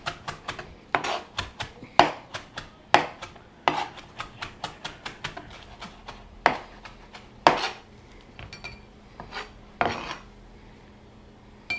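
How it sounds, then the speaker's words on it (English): A knife chops food on a cutting board for a chicken tortilla soup, a close run of crisp, fairly regular taps, some louder strikes, with a short back-and-forth rhythm continuing for about twelve seconds. "then you kind of just chop it up, kind of go back and forth"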